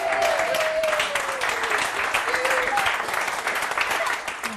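A studio audience applauds and cheers for a mother during a regional ITV News broadcast, with steady clapping and excited voices filling the whole stretch at a fairly loud, constant level.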